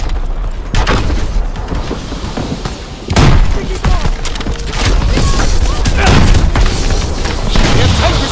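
Heavy explosions and booming blasts from an enemy tank firing on a flak gun in Call of Duty: WW2, loud and close, followed by dense rumbling impacts and crackling gunfire.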